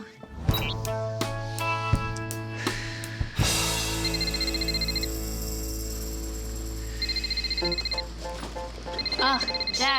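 A household telephone rings with repeated bright electronic tones, surrounded by background voices and indoor clatter. Later come scattered short beeps, suggesting an incoming robocall.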